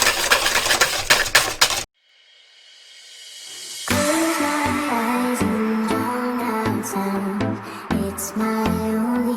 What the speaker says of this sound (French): Donc là, je vais la mélanger